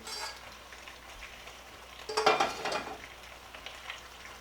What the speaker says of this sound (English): So what we want to do is just stir this pasta in and let it cook for about a minute more